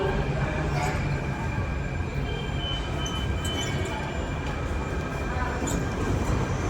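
A metro train rumbles steadily at full volume with a constant roar and occasional squeals, heard from inside a moving carriage.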